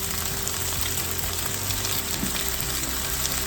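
Curry leaves and potatoes sizzle in a hot pan while prawn peretal cooks, a steady close frying hiss lasting throughout with no talking.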